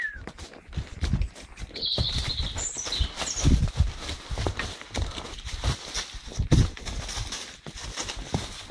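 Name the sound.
horse walking, hooves clip-clopping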